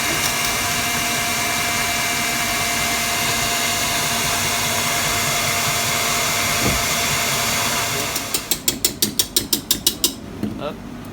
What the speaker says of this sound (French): On remet un coup à fond pour bien serrer les blancs.